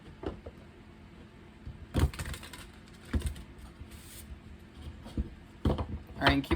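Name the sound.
tarot cards being shuffled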